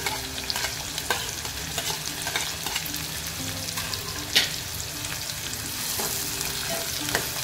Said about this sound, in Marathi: कांदा लसूण चांगला परतवून घेऊया।